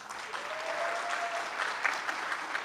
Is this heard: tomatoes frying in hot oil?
no